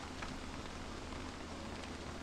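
Rain falls steadily in the survival game Don't Starve: Reign of Giants, a constant soft, even hiss of drops with no voice, fairly quiet and unchanging from start to end.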